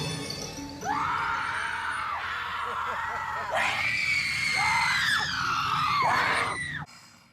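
Costumed actors shriek loudly at a haunted Halloween drive-thru, several long, wavering high-pitched screams overlapping one another for about six seconds, close and piercing, ending abruptly.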